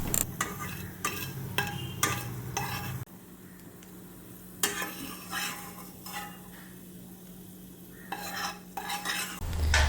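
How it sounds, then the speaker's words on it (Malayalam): Raisins frying in a pan give off a soft continuous sizzle broken by repeated bursts of stirring scrapes and clinks from a spoon, close up, with a quieter stretch in the middle. "മുന്തിരിയൊക്കെ ഒന്ന് നന്നായിട്ട് മൂത്ത് വരട്ടെ"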